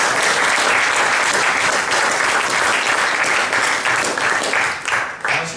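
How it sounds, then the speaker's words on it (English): An audience at a start-up challenge event claps in sustained, dense applause, loud and steady before tapering slightly at the end. "So please round of applause for these guys for coming down."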